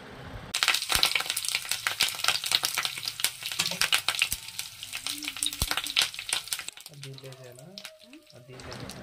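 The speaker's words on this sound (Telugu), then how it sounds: "రెండు రెబ్బలు కరివేపాకు వేసుకోవాలి." Curry leaves tossed into hot oil with tempering spices in a kadai for curd vada tempering sputter in a loud, dense crackling sizzle punctuated by stirring clicks, easing off near the end.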